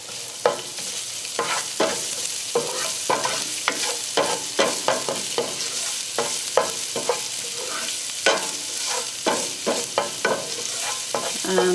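Garlic and ginger frying and being stirred in a pan for an Indian vegan butter cauliflower curry, with a steady sizzle broken by repeated scraping stirs, close and moderately loud, no talking.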